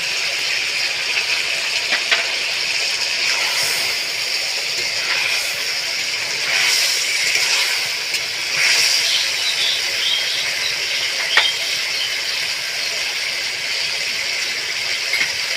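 Ground onion paste dropped into hot oil in a pan with chicken for a curry, giving a steady close hiss of sizzling that runs throughout with a few faint clinks and crackles.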